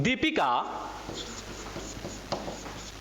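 Marker or chalk writing an example on a board during a basic English lesson, a short burst of speech at the start followed by soft, irregular scratchy strokes across the rest.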